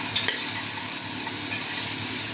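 Food stirred in a hot pot on a home stove, a continuous sizzle and frying hiss with a couple of sharp scraping knocks of the spoon near the start, close and steady.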